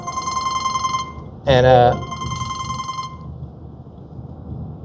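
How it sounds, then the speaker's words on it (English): A telephone rings with a steady electronic tone that runs for about three seconds, briefly covered by a louder burst of close talk, then fades out beneath quiet background noise. "I got a phone call"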